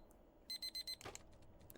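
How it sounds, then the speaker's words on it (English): Alarm clock ringing in the video game Deep Pixel Melancholy, four quick shrill beeps in a row followed by a thud and faint scattered clicks. "I smack my alarm clock without looking."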